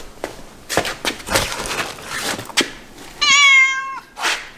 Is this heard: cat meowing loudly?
yes